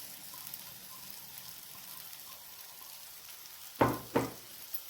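A steady, faint sizzle of ground moong dal paste frying in a hot pan, broken near the end by two sharp, close knocks of a utensil against the pan.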